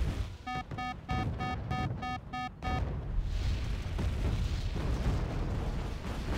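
AMOS mortar artillery pounding a position in Wargame Red Dragon: a series of beeping tones gives way to a heavy, continuous rumble of explosions that stays loud and booming to the end.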